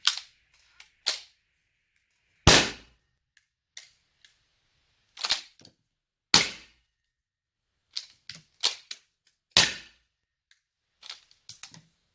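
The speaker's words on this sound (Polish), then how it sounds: "Oddam dwa strzały, bo to i tak będę musiał to przeładować" Several sharp, dry shots from a suppressed .22LR rifle, spaced a few seconds apart with softer clicks and clacks of manual bolt reloading between them, heard nearby with no talking.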